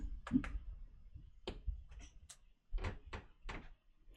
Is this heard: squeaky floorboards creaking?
yes